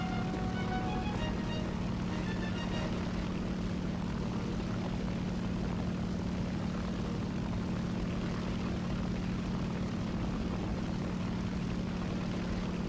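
Propeller bomber droning steadily in War Thunder, a constant low engine hum with a faint tonal whine, quiet and unbroken throughout, with no voices.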